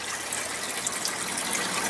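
Water flows steadily through an aquaponics system fed by a Laguna 400 gallon per hour pump into a garden bed biofilter, giving a continuous close hiss and splash with no voices.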